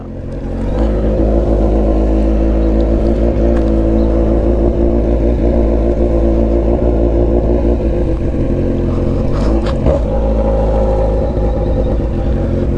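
A loud motorcycle engine rumbles close by with a deep throaty exhaust, holding a heavy steady drone with a brief rev near the end.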